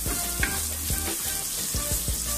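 Garlic and ginger sizzle in a hot pan, crackling steadily up close while a utensil stirs and scrapes through them in several quick strokes.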